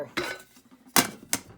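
Aluminium SIGG backpacking cook kit pots and plates clink and clatter as they nest together, three sharp metallic knocks spaced apart with quieter rattling between, close up and with no voices.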